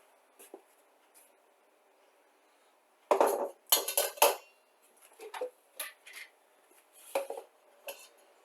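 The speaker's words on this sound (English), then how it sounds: "I like to put it through the strainer and get rid of all this extra whey" Spoon and metal strainer scrape and clink in short bursts as ricotta is pushed through to drain the whey for lasagna, with quiet gaps between the close, sharp strokes.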